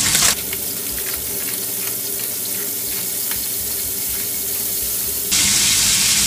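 Shrimp hit hot olive oil and fry with a loud, steady, close sizzle that holds throughout and swells brighter near the end, with no talking.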